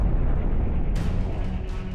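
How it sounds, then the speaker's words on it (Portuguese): A huge fireball meteorite strikes the ground near the village of Carancas in southern Peru, a deep rumbling roar with a sharp loud impact burst about a second in, then a heavy sustained rumble. "Uma enorme bola de fogo corta os céus e colide com o planeta Terra."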